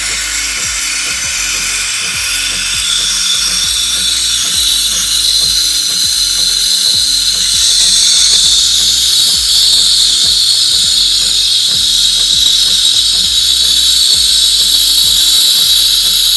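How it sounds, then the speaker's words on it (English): Steam wand of a DeLonghi La Specialista Prestigio EC9355M espresso machine frothing cold 2% milk in a pitcher, a loud, steady hiss with a gurgling, rattling texture running continuously throughout. "We're gonna go ahead and start frothing and texturing our milk."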